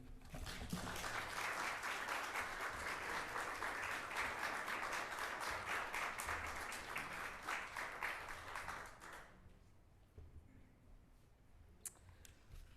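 A crowd applauds steadily, dense clapping filling the room for about nine seconds before fading to quiet with a few scattered claps.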